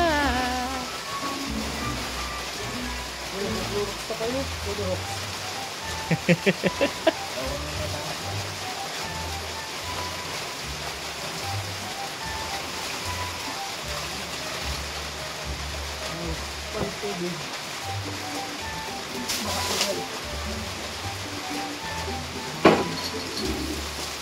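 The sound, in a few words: heavy rain falling all day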